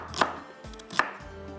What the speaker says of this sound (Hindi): इस तरह से प्याज को कटिंग करना है स्लाइस में